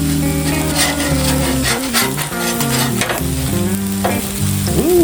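Fish fillets sizzle and fry steadily on an Aldi flat-top griddle outdoors, a loud continuous crackle with stirring and scraping noises running throughout, no talking.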